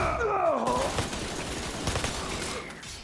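Shots ring out in the multiplayer shooter Resident Evil RE:Verse, a quick run of sharp cracks with a groaning creature voice early on, all fairly faint beneath game noise.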